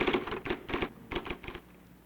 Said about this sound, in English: A remarkable electric typewriter, the IBM Selectric.